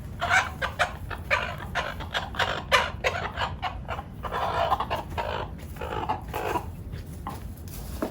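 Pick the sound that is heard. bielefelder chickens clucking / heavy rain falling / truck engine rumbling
bielefelder chickens clucking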